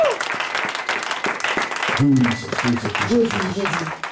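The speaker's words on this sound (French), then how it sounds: "Give a mighty clap of Jesus." A church congregation claps loudly and continuously during a worship service, dense applause filling the room while a voice speaks over it.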